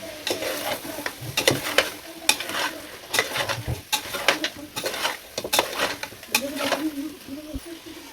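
A spoon stirs masala spice powder into beef bone curry in a pan, giving repeated close scraping strokes over a steady sizzle, with a voice talking faintly in places.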